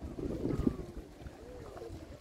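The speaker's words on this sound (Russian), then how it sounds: "Очень ветер большой, может, и не слышно нас." Gusty wind on a beach at Watamu, Kenya buffets the microphone in low rumbling bursts, with faint voices and a thin whistling tone underneath.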